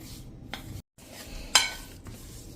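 Turmeric stirred into a spice mixture in a bowl while making fermented raita chillies, heard as a few short scraping and clinking strokes, close and fairly quiet, with one sharper metallic tap near the middle and no talking.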